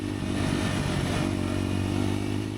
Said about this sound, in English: this motorcycle does feel like it is in its sweet spot at around 80 to 85 kilometers an hour